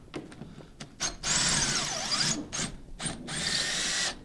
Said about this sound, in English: it feels like we might have a couple screws in the bottom, so let's just try taking these ones out